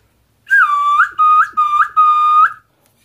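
A bird-call whistle imitates a jacu with four loud, close whistled notes in quick succession. Each note slides in pitch, with short pauses between them and silence around them.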